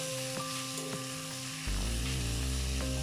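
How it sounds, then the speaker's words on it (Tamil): Onions for a dry king fish (karuvadu) fry sizzle in a pan while being stirred. A quieter, steady frying hiss jumps abruptly to a loud, dense sizzle about halfway through. No one speaks. "நம்ம கொஞ்சம் நல்லா ஃபுல்லாக கிளறி விட்டுட்டு அதுக்கப்புறம் உப்பு ஆட் பண்ணிக்கலாம்."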